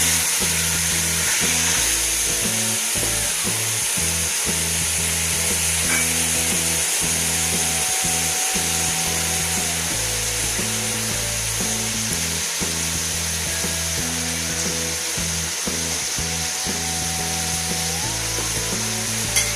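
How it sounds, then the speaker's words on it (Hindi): Vegetables fry and sizzle steadily in a pan while cooking Chinese fried rice, a loud continuous hiss with occasional scraping stirs and knocks throughout. "अब इसको आराम से भून जाए।"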